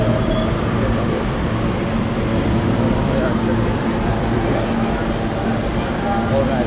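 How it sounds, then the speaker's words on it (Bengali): A subway train pulls into Jackson Heights station in New York, a steady loud rumble and rail hum with faint squeals filling the whole stretch, while people talk nearby over the noise. "ওই পাশে আরেকটা ট্রেন আসতেছে"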